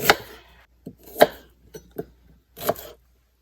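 Knife chopping onions by hand on a cutting board, a handful of distinct, close thuds spaced unevenly with quiet gaps between them.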